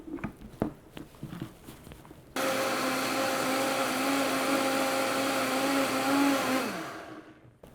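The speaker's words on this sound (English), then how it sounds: "I'm going to give that a blend." Countertop blender whirring through pumpkin seeds, filtered water and a spoonful of agave for raw vegan seed milk, a steady loud motor drone starting abruptly after some light handling clatter and winding down at the end.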